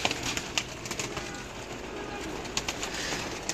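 Pigeons kept by a Pakistani pigeon fancier cooing and fluttering at a loft, faint and continuous under a dense, noisy background with occasional sharper clicks.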